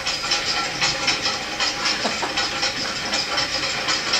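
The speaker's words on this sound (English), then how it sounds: "That's the sound of our 1929 diesel engine." A 1929 diesel engine running steadily with a hissing, breathy mechanical texture and a continuous, even rumble, fairly loud and close throughout, no voices.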